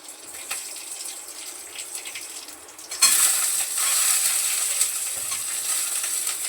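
Ginger and garlic dropped into hot oil in a home kitchen, a sudden loud hiss and steady sizzle that breaks out partway through and keeps going, close by, with no talking.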